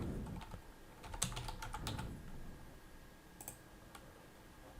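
Fingers type on a computer keyboard while entering a company name into a form: soft, close key clicks in short uneven bursts with pauses between, quiet and alone.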